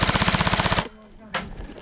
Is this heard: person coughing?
no